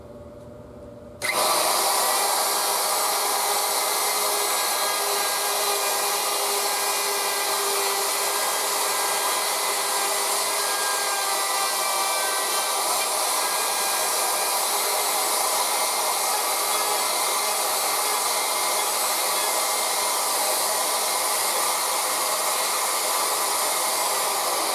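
A router bites into a wooden bass guitar body while cutting a pocket, switching on after a moment of quiet and then whining loudly and steadily without pause.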